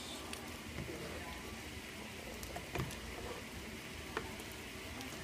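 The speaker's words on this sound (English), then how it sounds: "Now I have mixed in the okra and tomatoes, and I'm just stirring it all together now." Okra and tomatoes being stirred into a simmering Cajun chicken and shrimp stew in a pot: a soft continuous sizzle with faint scattered scrapes and clicks of the spoon.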